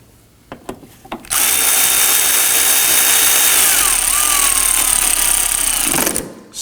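A power tool snugs down a nut on the coolant reservoir of a 2018-2024 Toyota Camry 2.5L four-cylinder, a loud close whine held steadily for about five seconds after a few handling knocks.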